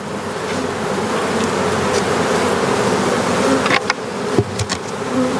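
Honey bees swarm around an open nuc hive, having just been shaken off three frames of brood, making a dense, continuous buzzing close by with a few sharper passes near the end.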